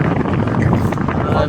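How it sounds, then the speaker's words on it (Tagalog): Strong, gusty wind roaring and buffeting the microphone continuously while flying a kite, loud and close, with a voice partly buried beneath it. "Kumikiling siya sa sobrang lakas ng hangin mga lods."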